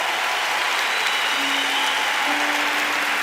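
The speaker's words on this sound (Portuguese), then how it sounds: "Um forte aplauso para o meu pai" A church congregation applauds in a steady, dense wash of clapping that holds at full strength from start to finish, with no voices rising above it.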